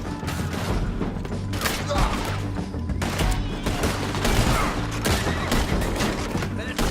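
Red Dead Redemption 2 gunfight in a town: dense, loud volleys of rifle and pistol shots crack in rapid bursts, with shouting voices mixed into the battle.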